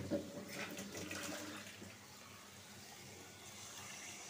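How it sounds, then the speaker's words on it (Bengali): Water is poured into a pot of curry seasoned with salt and spices, a gushing splash that starts loud and settles into a steady softer trickle, with no talking. "একটু পানি দিব এখন"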